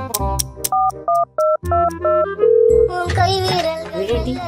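A phone sounds a run of short electronic beeps, then one held tone, followed by a louder, busier ringing melody.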